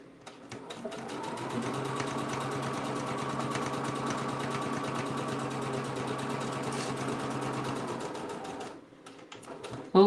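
A sewing machine sews a Bible bag in one long continuous run, a close, steady rapid clatter that ramps up, holds for several seconds and then stops near the end.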